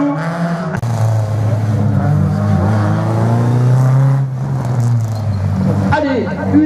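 A rally car runs the slalom course at Saint-Lô in 2024, its engine a steady, loud drone with shifting pitch as it accelerates and changes gear, heard under continuous French commentary from a nearby announcer.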